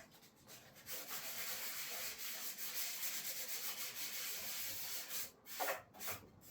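Sanding by hand to scuff epoxy primer on motorcycle guards: a steady, close scratchy rubbing with rhythmic back-and-forth strokes, fairly quiet and alone, with a few brief pauses near the end.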